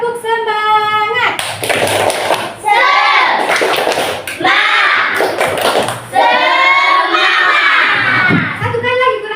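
A classroom of children perform a rhythmic spirit clap, sharp hand claps in quick patterned bursts mixed with loud chanting and shouting voices, repeated in several rounds.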